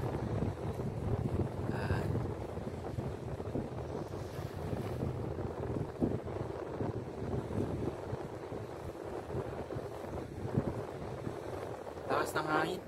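Strong seaside wind buffets the microphone steadily along a rocky man-made shore where small boats sit nearby, a broad rushing roar that never lets up, with someone talking over it at times.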